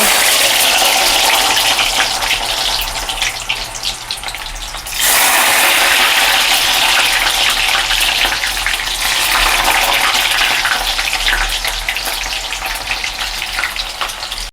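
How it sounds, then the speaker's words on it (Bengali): Garlic fries in plenty of hot oil for bamboo shoot pickle, giving a loud, dense, hissing sizzle that dips briefly around a third of the way through and then surges back and carries on steadily, with no talking. "তেলের মধ্যে আমি রসুনটা ফ্রাই করে নেব।"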